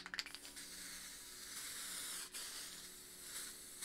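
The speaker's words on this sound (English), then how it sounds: "So just spray it from side to side as we move up the sheet." Clear coat sprays from an aerosol spray paint can in a long continuous hiss, close and steady, preceded by a few quick rattling clicks and briefly broken by a short pause.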